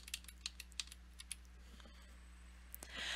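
Computer keyboard arrow keys are tapped in a quick series of crisp, close clicks over a steady low hum, ending with a brief rush of noise.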